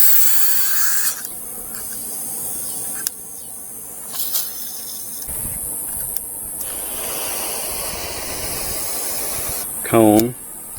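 A garden hose spray nozzle at moderate pressure gives a broad, steady hiss of spraying water from about halfway through, after some clicks and handling noises at the nozzle.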